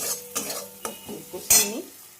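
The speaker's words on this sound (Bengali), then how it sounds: "আর এই দেখো আলুটা সেদ্ধ করেছি, দিয়ে ওটার মধ্যে দিয়ে দেবো। এটা কষা হয়ে যাক," Boiled chickpea lentils and potatoes being stir-fried in a pan at home, with a few distinct scraping stirs and clinks of a utensil against metal over a soft sizzle, close and moderately loud.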